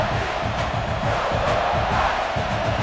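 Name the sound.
stadium crowd roaring at college football game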